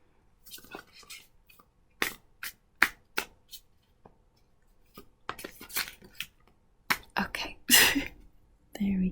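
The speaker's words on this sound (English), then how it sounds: "Let me just at least shuffle this out first." Quick bursts of tarot cards being riffled and flicked, several separate shuffles with short pauses between, close by, along with soft handling noises.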